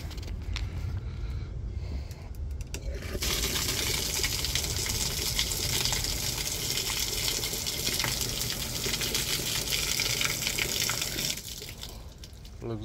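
Water gushes steadily and loudly into a rainwater collection barrel, a dense pouring rush that swells after a few seconds and holds before easing near the end.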